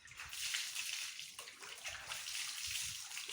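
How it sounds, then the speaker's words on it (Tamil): Water is poured and splashes steadily for face washing at home, a soft continuous gush with small sloshing changes, fairly close and quiet. "தண்ணி ஊற்றுங்க."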